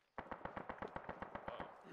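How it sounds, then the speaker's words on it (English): Automatic gunfire in the ARMA military video game: a rapid burst of about ten evenly spaced shots lasting under two seconds, faint and distant, with no speech over it. "Bravo, shots fired."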